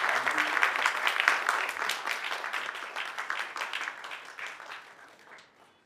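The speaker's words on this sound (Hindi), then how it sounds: "तालियां बनती है तो बहुत अच्छा होगा." An awards event audience breaks into applause to welcome the guests on stage, with dense clapping that is strong at first, then thins and fades out toward the end.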